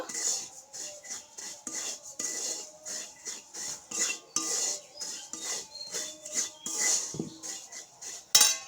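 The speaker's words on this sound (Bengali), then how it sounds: "সুজি দিয়ে আমি সুজিটাকে ভালো করে ভাজিয়ে নেব" Semolina (suji) is stirred and dry-roasted in a pan, a close metal spoon scraping and clinking in an irregular rhythm, with a sharper clatter near the end.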